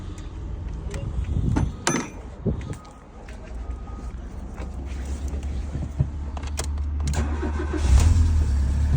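Fiat Palio car with a starting fault cranking, sputtering and catching, then settling into a rough idle, with brief voices and mechanical clatter nearby.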